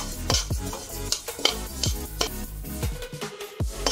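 Sesame seeds roasting in a pan for til barfi, with a steady dry crackling sizzle and repeated scraping stirs of a spatula against the pan, close and clear, no speech.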